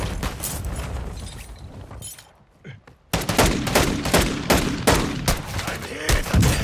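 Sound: gunfire in a video game

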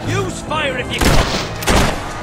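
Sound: gunshots in the video game Fable III

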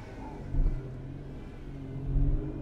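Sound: car engine idling unevenly under power steering load

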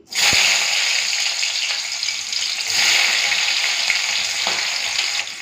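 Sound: onions frying in hot mustard oil

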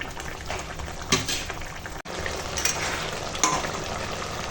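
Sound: fish cooking in a pan with frying sounds

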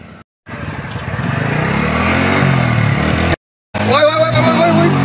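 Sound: motorcycle being ridden

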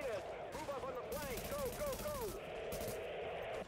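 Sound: gunfire in the video game The Division

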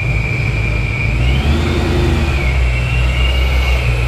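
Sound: supercharged Mustang engine idling

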